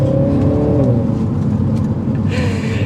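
A 2023 MINI Clubman John Cooper Works ALL4 accelerates in sport mode, its engine droning loud and steady as the pitch shifts through a gear change, heard from inside the cabin.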